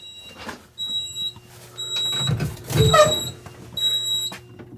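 Repeated high electronic beeps from a fire alarm panel trouble tone, triggered by a removed heat detector, sound in short intermittent bursts, alongside some mechanical clunks and rumbling in the room.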